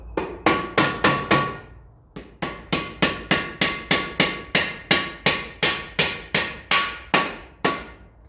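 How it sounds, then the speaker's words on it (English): Repeated sharp taps from a plastic hammer on a 1954 Ferguson TEF 20 diesel tractor wheel, a quick burst of four, a short pause, then a long steady run of evenly spaced strikes, close and clear. "I'll get the plastic hammer up and back"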